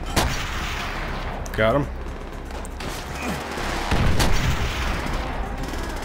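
Gunfire in the video game Call of Duty World at War, with booming shots and loud battle noise throughout and a few words spoken over it.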